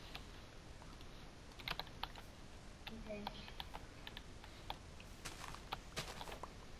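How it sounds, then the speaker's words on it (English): Computer keyboard typing during a Minecraft session gives quiet, irregular clusters of close key clicks, with faint voices in the background. "Why are you typing?"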